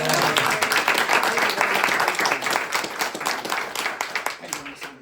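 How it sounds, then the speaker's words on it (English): An audience at a political fundraiser in Copperas Cove, Texas, claps for a candidate, a close, brisk burst of applause that thins out over about five seconds, with a few voices mixed in. "Another round of applause for Justin."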